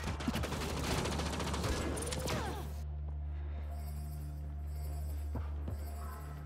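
Gunfire in the video game Mass Effect Andromeda, a rapid dense burst of automatic shots for a few seconds, then a mechanical hum with occasional faint single shots.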